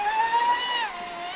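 A Traxxas Spartan RC boat fitted with new profile props runs its motor, giving a thin steady whine with a rising and then falling pitch, heard briefly at moderate distance.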